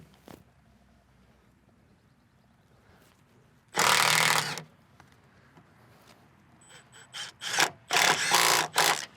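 A Milwaukee M18 FUEL compact impact wrench, 3/8" or 1/2" drive, hammers lug nuts in loud, close bursts: one long run, then several short rattling pulses and a final sustained burst, with quiet outdoor background between.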